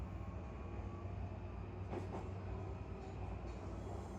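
Continuous rumble of a train running on rails near Yokohama, Japan, heard from inside a carriage, with steady low roar and faint rhythmic clatter.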